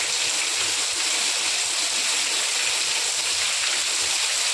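Steady rain falls on a main road with water running nearby, a dense, even hiss of drops and flow that continues without a break.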